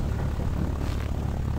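A seaplane's engine in the video game Thirty Flights of Loving, a steady low propeller drone that stays fairly quiet and unchanging, with no voices over it.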